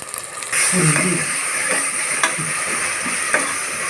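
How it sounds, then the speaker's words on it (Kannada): Ginger garlic paste sizzles in a pan for chicken biryani, a loud hiss kicking in after a brief pause, with a few spoon scrapes and taps close by. "ಅದನ್ನು ಸ್ವಲ್ಪ ಫ್ರೈ ಮಾಡಿಕೊಡಿ"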